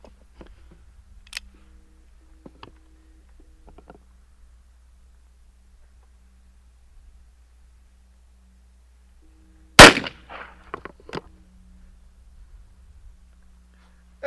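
A single sharp, loud report from an Uberti 1851 Navy revolver fired at a target 10 yards away, close by, breaking an otherwise quiet stretch with faint handling clicks before and after.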